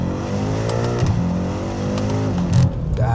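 A BMW M5 Competition F90 with a Stage 1.5+ tune revs hard through its exhaust, the loud engine note climbing and dropping in a couple of sharp blips over a continuous aggressive idle.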